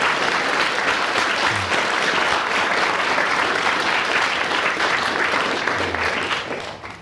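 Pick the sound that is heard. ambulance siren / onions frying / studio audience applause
studio audience applause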